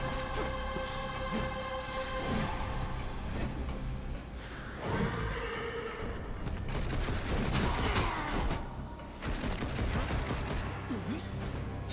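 Gunfire in the action role-playing game Torchlight 3, a dense stretch of rapid overlapping shots and mechanical clatter that rises and falls in bursts over a busy game soundscape.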